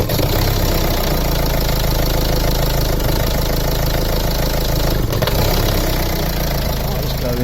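A Nissan Primastar van's diesel engine idling at the roadside, a loud steady rumble with a rough, knocking tone and a brief dip midway.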